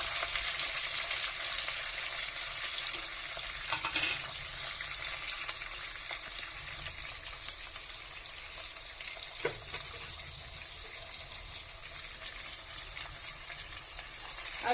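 Sliced onions with cloves and bay leaves fry in a pan, giving a soft, steady sizzle with occasional faint stirring clinks, heard alone and fairly quiet.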